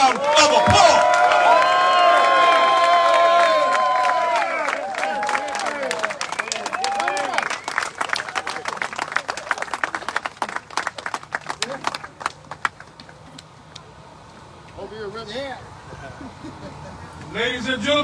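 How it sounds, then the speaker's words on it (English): Clapping and cheering from an outdoor crowd at a street dedication, loud whoops and voices at first, then scattered claps thinning out over several seconds, with people talking throughout. "Let's give Mike Hitman Wilson a round of applause."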